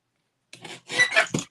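A paper trimmer cuts cardstock at a stamping craft table. After a silent half second come a few short, close, raspy strokes, ending in a sharper snap.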